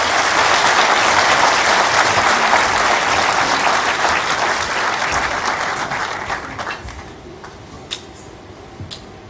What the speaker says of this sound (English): may I request a big round of applause.